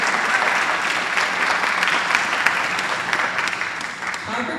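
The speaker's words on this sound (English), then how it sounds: "One big round of applause." An audience at a high school district governing board meeting gives a steady round of applause, dense and continuous from start to finish with no gaps.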